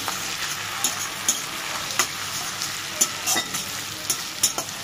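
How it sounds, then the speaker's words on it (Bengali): Onion sizzles steadily in leftover egg-frying oil while a utensil strikes and scrapes the pan at roughly one-second intervals, close up and with no speech. "পেঁয়াজটা দিয়ে ভেজে নেব।"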